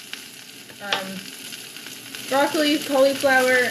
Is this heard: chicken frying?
yes